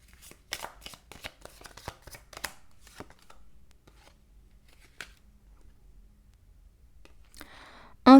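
Cards are shuffled for a card reading in a close run of crisp riffles and flicks, thinning after a few seconds to sparse taps, then a sharp loud burst at the very end.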